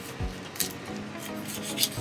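A kitchen knife cuts the head off a mackerel for cured saba: faint rasping, crunching strokes through bone, close and quiet, with no talking.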